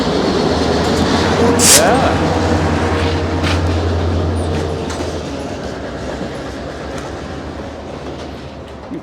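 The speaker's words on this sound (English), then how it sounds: "Oh, there's a train coming." Full-size train rumbling past close by with a steady low roar and clickety-clack of wheels, a sharp squeal or horn burst early on, gradually fading; one brief spoken word.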